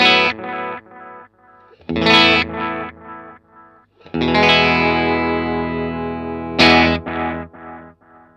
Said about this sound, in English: I'm running the ARDX20 directly into the Jam Pedals Delay Llama